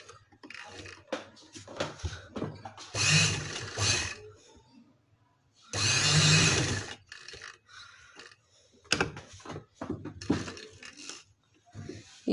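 A sewing machine stitching a neckline on a stylish dress, running in two loud, dense bursts of a few seconds each, with quieter handling clicks and fabric shuffling between them.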